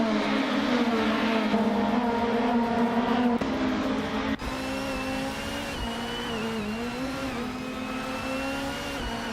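Race cars in a nonstop racing game, including a 28 Mercedes C200, engines whining and droning at steady high revs up close, pitch shifting with gear changes.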